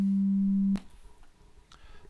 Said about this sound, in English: It's just a straight up sine wave, right?